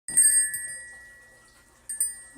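A dog rings a bell hung by the door to ask to go outside: two bright metallic dings, each ringing out and slowly fading, close and clear with nothing else over them.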